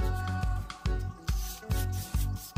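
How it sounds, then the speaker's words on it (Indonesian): A scratched part of a Suzuki Nex scooter is sanded by hand with sandpaper, giving a close, steady series of rhythmic rasping strokes, about six back-and-forth passes. "Ini kita amplas dulu ya, teman-teman ya."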